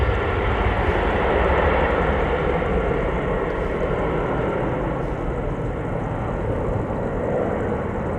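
A KLM jet departing Amsterdam Schiphol Airport gives a broad, steady engine rumble at moderate loudness, holding a continuous roar that eases slightly toward the end, with no voices.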